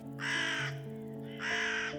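Raven cawing as an audiobook sound effect for a Hansel and Gretel children's story, two long, loud harsh caws separated by a pause, set over a steady background tone.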